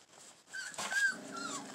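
Puppies being let out in the morning whimper and whine in high, thin, wavering cries, close by, with a few soft yips and no talking over them.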